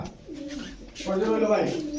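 Fancy Budapest pigeons being sold at a market coo softly in short throaty phrases, with a fuller coo in the second half, close to the microphone and fairly quiet.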